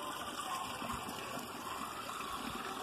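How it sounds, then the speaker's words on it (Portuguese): Water pours and gushes steadily from an aerator into a 500-litre tank holding tilapia, a continuous close splashing flow with no speech. "Aqui é o aerador Samuca para oxigenar a água."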